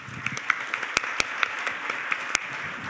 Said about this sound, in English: So would you join me in thanking the panelists with a big round of applause?